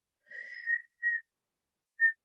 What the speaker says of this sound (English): You may even whistle, that's fine.